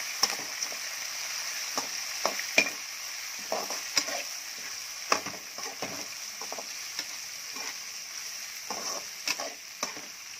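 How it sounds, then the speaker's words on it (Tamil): Onions with curry leaves and green chilies being sautéed in a pan for semiya upma, a steady close sizzle with repeated scraping stir strokes throughout, no talking. "இப்போ வெங்காயம் சேர்த்தாச்சு. இதுக்குள்ளே கருவேப்பிலை சேர்த்துடலாம். பச்சை மிளகாவும் சேர்த்துடலாம். இப்போ நல்லா வதக்கிடுங்க."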